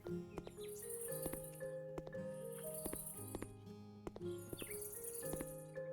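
Crickets chirp in steady pulsing bursts in a dark outdoor setting at night, with a continuous high trill that repeats about once per second and carries at moderate volume, with no voices.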